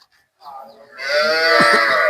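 A cow moos loudly and close by, a long low bellowing call that swells and holds to the end.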